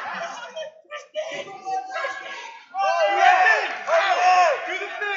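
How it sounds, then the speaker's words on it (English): Student section crowd at a high school wrestling match between Council Rock South and Quakertown, loud cheering and yelling that swells and stays raised near the end, with talk and laughter mixed in close by. "A lot of noise from the crowd behind us."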